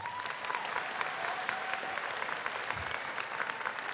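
Audience applause at a high school commencement ceremony, a steady, dense wash of many hands clapping throughout, fairly distant and even in level.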